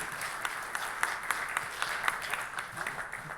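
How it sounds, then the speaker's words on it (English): Live audience applause at a corporate magic show at a conference, a steady wash of many hands clapping with scattered louder claps, moderately distant and fairly quiet. "A big round of applause for Steve, everyone."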